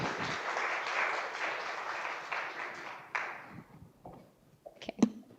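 A group at a summer camp claps for game participants, a brief burst of dense applause lasting about three seconds before cutting off, leaving a few scattered taps and knocks.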